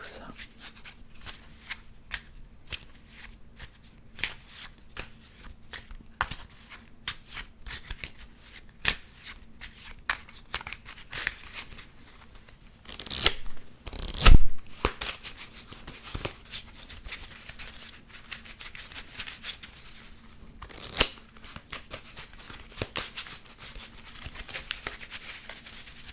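Playing cards being shuffled by hand at close range, a soft steady flutter of riffles and rustling with a few sharper louder bursts partway through, no talking.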